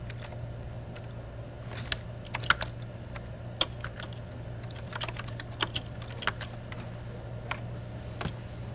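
Fingers type on a computer keyboard in quick, irregular bursts of light clicks. The clicking is faint and close, with no talking.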